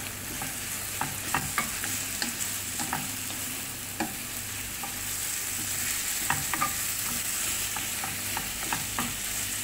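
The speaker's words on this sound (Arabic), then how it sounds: "نخلطوهم مليح هكا مع بعض" Ingredients being mixed with black pepper in a bowl, a spoon clinking and scraping in irregular taps over a steady background hiss, close and moderately loud, no voices.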